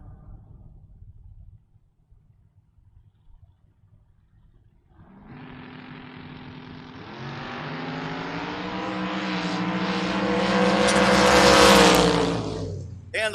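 A 1994 Porsche door car at a drag race: quiet low rumble at first, then the engine fires up loud and climbs in a long rising roar before cutting off near the end.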